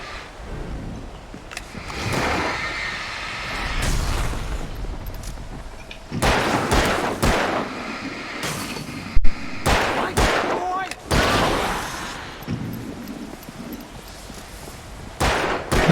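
Intermittent shots and short bursts of gunfire ring out in the game Alan Wake. Loud cracks are spread unevenly across the stretch, with voices talking between and over them.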